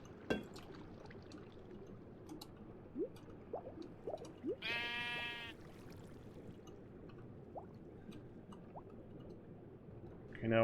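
One brief sheep bleat in a Minecraft-style video game underwater sheep farm, fairly clear against a quiet background of soft drips and small squishy sounds.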